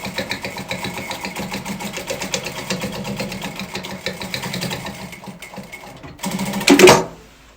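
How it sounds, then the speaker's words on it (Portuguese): Sewing machine stitching a retro canteen bag runs in a fast, even mechanical rattle of needle strokes, close and steady, then slows and stops before a brief louder handling rustle at the end. "E aí, a gente vai passar uma costurinha aqui pra poder prender tudo isso."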